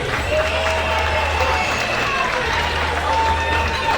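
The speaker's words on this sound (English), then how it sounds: "Big round of applause for 2, 4, 3, everybody." Audience applause at a fork fight event, a dense steady patter of many hands clapping filling the room, with crowd noise and a low hum underneath throughout.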